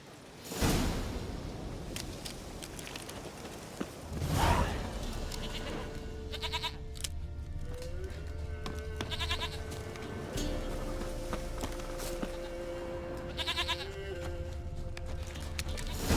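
A goat in The Witcher 3 video game bleats a few times at a moderate distance over a steady bed of in-game ambience, with a voice talking over part of it.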